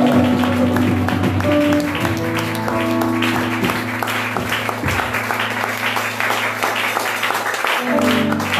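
A church congregation at a fast-and-prayer service claps in praise of the Lord, a steady dense applause running throughout over sustained organ or keyboard tones, with no clear speech.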